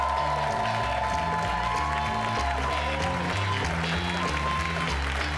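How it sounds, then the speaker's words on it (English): Applause and cheering at a comedy club as the comic Ryan Schutt is brought on, mixed with loud walk-on music carrying a pulsing bass line and melody, both sustained at full level throughout. "How about a big round of applause for Ryan Schutt?"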